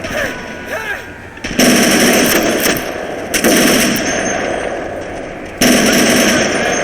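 Sustained machine gun fire rattles loudly through a war video game battle between toy soldier armies, coming in long continuous bursts with brief gaps, under game noise.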